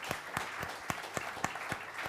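An audience at a general assembly applauding, a close, steady wash of many hands clapping with sharp individual claps standing out, no voices.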